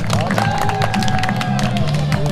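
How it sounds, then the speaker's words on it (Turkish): A crowd at a summer village festival applauds, dense continuous clapping with cheering and chatter mixed in, close and loud throughout. "Alkışlıyoruz efendim."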